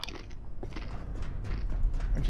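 Crunchy video-game eating sounds from a character chewing, a dense run of loud crackling bites and munches with a few clicks mixed in, close and continuous for about two seconds.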